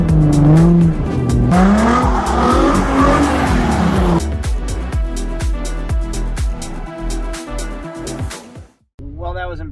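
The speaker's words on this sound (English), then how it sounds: "Let's go rip some donuts in that CROSSFIRE," A Chrysler Crossfire is driven in donuts, its engine revving hard while the tires squeal in repeated loud bursts, close by, with a person talking over the noise.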